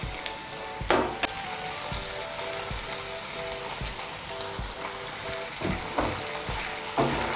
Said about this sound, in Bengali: এর মধ্যে এখন আমি দিয়ে দেব সামান্য একটু কাঁচা সর্ষের তেল।